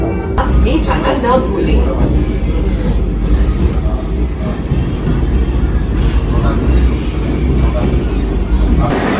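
Inside the 22895 Howrah–Puri Vande Bharat Express near Kharagpur, a loud, steady rumble of the moving train fills the whole stretch, with faint wheel rattles and people talking throughout.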